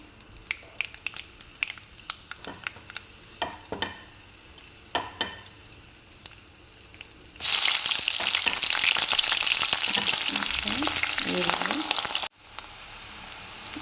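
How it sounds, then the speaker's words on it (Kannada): Mustard seeds, onion and green chili hit hot oil for a tempering, a few scattered pops and crackles giving way to a loud, dense, steady sizzle that cuts off abruptly near the end. "ಒಗ್ಗರಣೆಗೆ ಈರುಳ್ಳಿ, ಹಸಿಮೆಣಸಿನ್ಕಾಯಿ, ಸಾಸಿವೆ"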